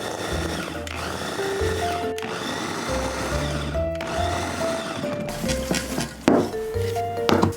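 A stand mixer kneads apple pie dough, its motor whirring loudly and steadily with a changing, rattling tone as the crumbly dough begins to clump, continuous and close with no talk.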